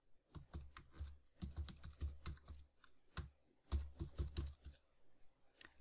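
Quick bursts of keystrokes on a computer keyboard while PHP code is typed, clicky taps close up in uneven clusters with short pauses, no talking.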